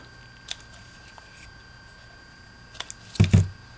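Scissors snip twice through Daffodil Delight ribbon in a short, close double cut near the end, after a few faint handling rustles in an otherwise quiet room.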